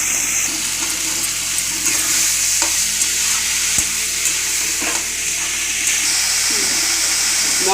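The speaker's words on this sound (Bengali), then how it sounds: "মশলার সঙ্গে মোচাটাও ভালো মতো মেশানো হয়ে গেছে" Banana flower, chickpeas and spices are stirred steadily in a sizzling pan. The close scraping and gentle frying hiss carry on continuously, with a low background hum throughout.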